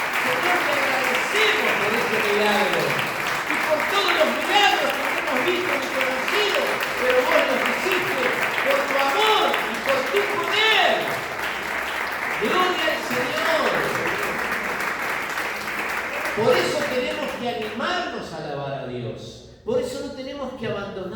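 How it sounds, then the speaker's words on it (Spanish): A charismatic Catholic congregation applauds the Lord after a prayer of thanks, a long spell of clapping mixed with voices and talk, thinning near the end as speech takes over. "Démosle un aplauso al Señor, porque no lo hicimos nosotros."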